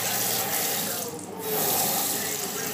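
Warm water runs from a tap into a sink during face washing, a close, steady splashing rush that briefly dips as hands interrupt the stream.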